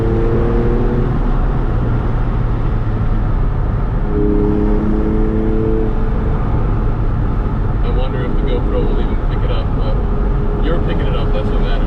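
Exhaust note of a 2002 Porsche 996 Targa 911 on a canyon drive, a steady droning engine tone that rises and falls in pitch over road and wind roar, heard from inside the cabin with brief talk.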